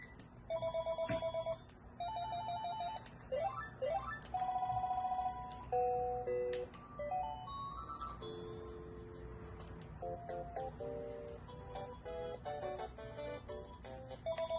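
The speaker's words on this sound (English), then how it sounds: "let's go through the ringtones and see what's going on with the ringers" A phone bought at a thrift store cycles through its ringtones, a series of electronic trilling and warbling melodies in changing pitches, some loud bursts and some softer tones, with no talking.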